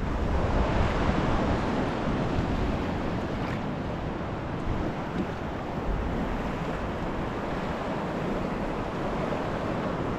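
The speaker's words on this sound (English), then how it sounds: "I'm getting washed on with these waves coming through." Sea waves surge and wash continuously around an angler standing in shallow water near a castle shoreline, loud broadband surf with wind buffeting the microphone throughout.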